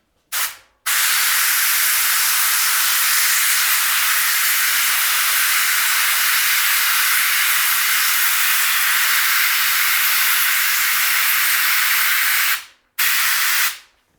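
Cheap spray gun spraying in one continuous, loud, steady hiss lasting about twelve seconds, with short bursts before and after it and brief silence between.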